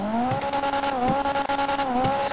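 Nissan 370Z Nismo engine in GTA V revving hard from inside the car, a steady loud harmonic drone with brief dips and surges in pitch, continuous throughout.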